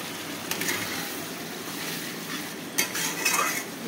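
A spice mix stirred and fried in a pan for a chicken and jackfruit curry, a soft continuous sizzle with scraping strokes of a utensil, a few louder scrapes near the end, close and moderately quiet.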